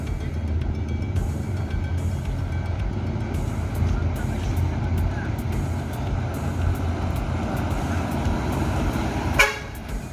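A bus horn toots repeatedly in short blasts over a steady rumbling engine and road noise, fairly close and loud.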